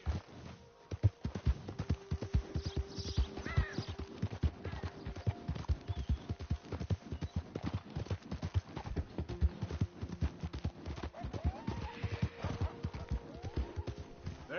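Horse galloping in Red Dead Redemption 2, a rapid rhythmic run of hoofbeats thudding close and steady throughout, with faint birds and ambient hum beneath.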